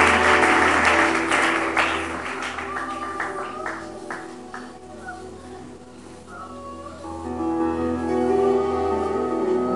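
A church congregation applauds in a burst of loud clapping that thins out after a few seconds, giving way to a sustained musical drone with voices underneath.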